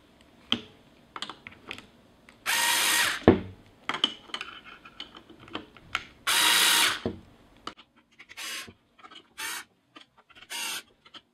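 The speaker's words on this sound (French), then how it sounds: "à l'aide de votre visseuse" Power screwdriver driving screws to press bearings into a LOOK ZED2 crankset, heard as several close, loud whirring bursts of a few seconds each, separated by clicks and small mechanical handling noises, with no talk.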